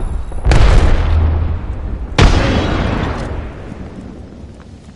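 Two frag grenades go off in a video game, two sharp loud booms about two seconds apart, each followed by a long rumbling decay.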